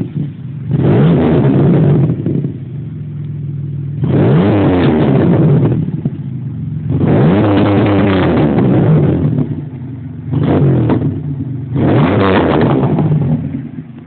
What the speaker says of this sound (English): This car's loud as hell.